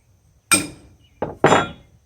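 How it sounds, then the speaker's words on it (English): Three sharp metallic taps of a wrench on a tightened front wheel bearing nut of a Ford 660 tractor, a single strike followed by a quicker pair, close and distinct with short ringing decay. "I'm just going to take this wrench right here and just give it a good tap."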